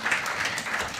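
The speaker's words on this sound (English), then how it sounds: "let's give her a big round of applause" Steady applause from an audience at a book launch, many hands clapping together at a moderate distance without pause.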